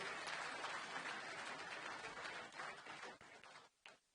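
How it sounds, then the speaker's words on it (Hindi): A crowd at a Delhi inauguration event applauds the Lieutenant Governor with a continuous wash of clapping that stays faint and distant, tapering off into a few scattered claps at the end. "एक बार जोरदार ताली बजाओ भी एलजी साहब के लिए।"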